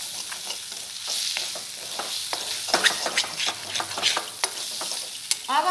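Chickpea masala with lengthwise-cut green chillies fries in a pan, with uneven spatula scrapes and clicks over a bright, close sizzle.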